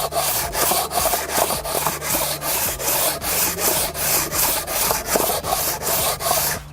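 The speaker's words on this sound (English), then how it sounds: "straight as block as you can find, WD-40 on there, and then you just sand away." A cylinder head from an LS1/LT1/small-block Chevy engine is rubbed flat on sandpaper over a straight block wetted with WD-40, with steady back-and-forth gritty sanding strokes that run continuously, close and fairly loud.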